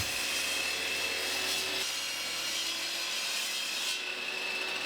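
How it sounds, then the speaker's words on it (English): Wooden cabinet boards are cut to length with a steady, continuous rasping, sawing rub that runs without a break at close range and has no voices over it. "I must cut them to the desired length and width"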